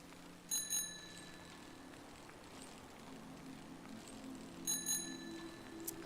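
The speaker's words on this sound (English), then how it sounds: "I just like ringing the bell. It's kind of a nice little sound." A bicycle bell rings twice, each a quick pair of bright dings close by, separated by a few seconds of quiet outdoor ambience and a faint engine drone.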